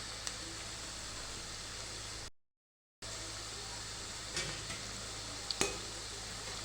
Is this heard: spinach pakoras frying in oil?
yes